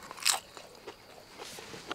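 Close-up crunching bites into soft shell crawfish, a loud crisp crunch followed by softer chewing and a second crackly bite.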